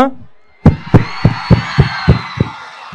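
A college student audience at SNIST claps and cheers loudly at a film promotion event, with a burst of sharp, fairly regular handclaps and crowd shouts following a brief spoken word.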